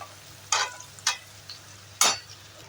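Small shallots frying in sesame oil for mutton pepper fry give a low steady sizzle, broken by a few sharp scraping stirs of the spoon against the pan.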